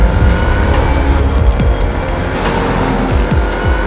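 A 542 bhp Range Rover Sport SVR cornering hard through the banked Carousel at the Nürburgring Nordschleife, with a loud, continuous engine roar, shifting pitch, and intermittent tire squeal close by.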